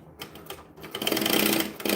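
A sewing machine stitches fabric for a bag, its needle chattering in short bursts that then run into a fast, steady, loud whir.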